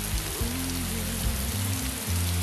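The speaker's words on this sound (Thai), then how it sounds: "รอฝนหยุดตกแล้วเราค่อยไป" Steady rain falls in a dense, even hiss with a constant wash of droplets, close and unbroken, alongside low tonal background sounds and no voices.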